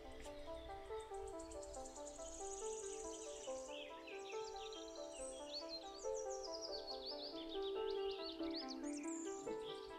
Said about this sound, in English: I like that I'm doing a bird and there's bird sounds.